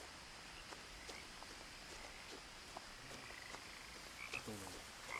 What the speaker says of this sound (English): The froggy frog.